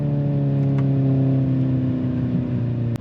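Hyundai Ioniq 5 N 2025 electric car producing a steady synthetic engine-like drone with simulated gear shifting, close and continuous with layered tonal hum and a brief click near the end.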